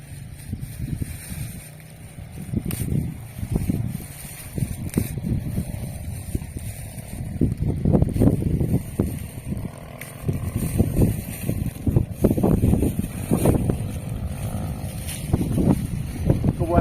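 A low, steady engine drone with rumbling pulses from a boat motor running close by on a lake in the Dieng Plateau, Indonesia, mixed with wind buffeting against the microphone.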